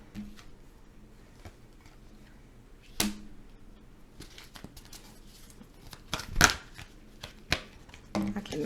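Tarot cards being shuffled and handled, with scattered riffles and slaps at irregular intervals and a louder flurry near the end, under quiet background.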